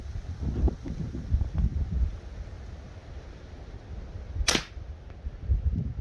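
A single sharp shot from a Remington Warhawk spring air rifle fired outdoors, crisp and close, with steady wind noise buffeting the microphone before and after.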